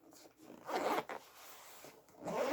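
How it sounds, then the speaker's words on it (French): The zipper of a pencil case holding 120 aquamarker felt pens is pulled shut in a few quick rasping strokes, quiet and close, with brief pauses between pulls. "La fermeture éclair a l'air de bonne qualité."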